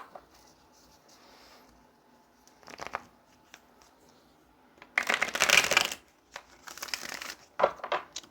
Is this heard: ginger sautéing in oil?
no